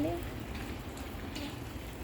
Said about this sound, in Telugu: చూడండి ఎంత పెద్ద వాన పడిందో